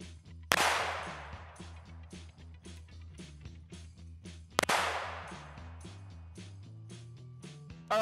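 Two sharp, loud reports from a Smith & Wesson Model 10 revolver firing 158-grain .38 Special rounds, spaced about four seconds apart, each with a ringing decay, plus smaller knocks and handling sounds between the shots.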